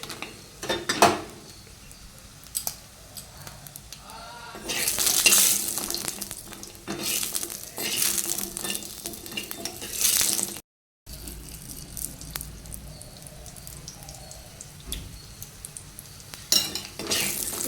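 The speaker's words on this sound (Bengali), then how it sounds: "গয়না বড়ি কটা ভেজে নেব" Gohona bori lentil dumplings crackle and sizzle in hot oil, the hiss swelling louder midway, with intermittent scraping of a spatula and a brief silent gap.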